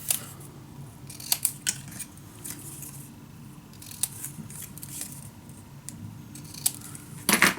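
Scissors cut material for a Sherlock Holmes-style craft secret storage unit, giving sharp snips at uneven intervals over a low steady background hum, close to the listener.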